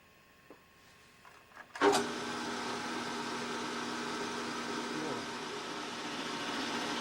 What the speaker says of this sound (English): Now I'm going to trim the bearing cap to match the width of the bearing cap's support using a 3/8 inch end mill.